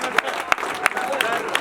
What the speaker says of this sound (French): Alors donc c'est Sana, on peut l'applaudir.